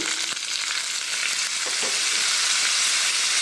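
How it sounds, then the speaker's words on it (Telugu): Curry leaves and tamarind-cucumber chutney frying in a pan, a steady close hiss with a few soft crackles, no voices. "తర్వాత కరివేపాకు వేసుకుని ఇలా ఫ్రై అయ్యాక ఇప్పుడు ఈ పచ్చడి ఇందులో యాడ్ చేసుకోవాలండి"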